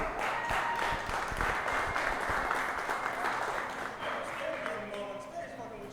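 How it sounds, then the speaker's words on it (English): A comedy-show audience gives a round of applause for the comedian Detroit, a burst of clapping that gradually thins out while a voice starts talking near the end. "Give him a round of applause, everybody."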